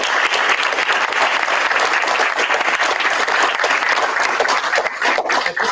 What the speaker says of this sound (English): I think it's only fair that we have a round of applause for these great candidates